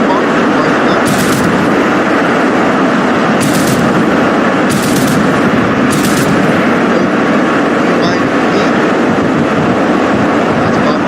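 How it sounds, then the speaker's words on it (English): An Su-57 fires its weapons in a flight video game, with several short bursts of gunfire cutting through a loud, constant roar of jet and engine noise. "So again, fire the weapons, you hold spacebar and fire that."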